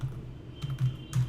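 Short bursts of typing on a computer keyboard, a few quick clustered key clicks with brief pauses between them, close and fairly quiet.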